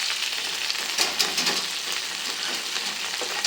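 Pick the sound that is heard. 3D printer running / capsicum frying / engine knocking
capsicum frying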